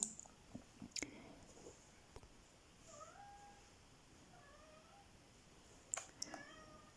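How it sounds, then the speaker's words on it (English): A cat meows faintly a few times in a quiet room, short rising cries separated by soft clicks and rustles. "my cat really wants my attention"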